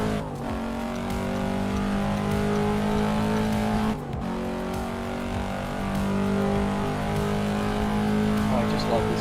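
A Cadillac GT5e engine in a video game holds a steady, loud drone with shifting revs throughout, briefly dipping around the four-second mark before climbing again, with a voice talking over it.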